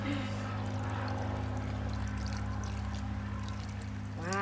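Water pours steadily into a potted Calathea in a WallyGro planter, a soft continuous trickle close by over a loud steady background hum, with a brief voice near the end.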